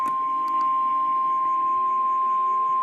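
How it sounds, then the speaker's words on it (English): An Emergency Alert System alert relayed on WYZZ TV sounds as a sustained, piercing single-pitch tone held steadily throughout, with faint clicks at the start. "It's still relaying the EAS, but it went off the air."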